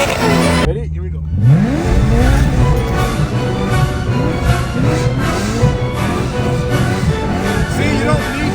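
A car spinning donuts on a drift, its engine revving up and down in pulses with alternating throttle, loud and close from inside the cabin with the windows down, tires squealing throughout; a voice talks over it.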